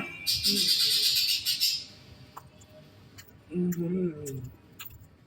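A pet bird gives a rapid burst of high, bright chirps for over a second, then falls quiet, and a person's voice follows briefly at close range.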